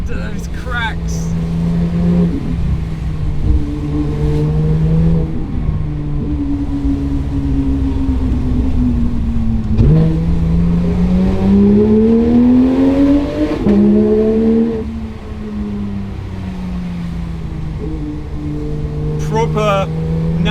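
Naturally aspirated Porsche 911 GT3 RS engine revving hard on a motorway, with rising and falling engine tones, sharp exhaust cracks near the start and end, and continuous close, loud drive noise throughout.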